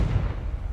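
A Confringo fire spell blasts in Hogwarts Legacy as a short, heavy low boom with a rumbling tail.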